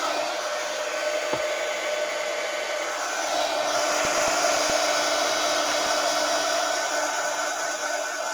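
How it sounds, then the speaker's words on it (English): A heat gun blows steadily over a resin pour with a loud, continuous airy roar that holds level the whole time, with a few faint clicks underneath. "I'm gonna use the heat gun to get just a film over the top"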